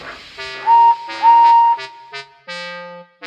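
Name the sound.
guard blowing whistle at train station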